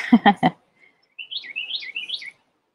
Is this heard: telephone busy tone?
no